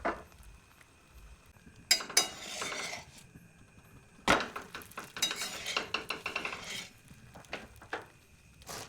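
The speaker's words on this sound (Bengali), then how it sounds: "তাওয়ার উপর পরোটাটি চাপিয়ে দিলাম।" A paratha of flour dough mixed with boiled potato goes onto a tawa for frying in oil, with scattered metallic clanks and scraping clatter from the pan and utensils, some sharp and close, between quieter stretches.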